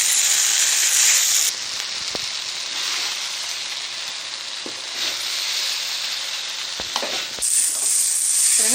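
Gobi manchurian stir-frying in a pan, a steady loud sizzle with occasional spatula scrapes and clinks over several seconds, no talking.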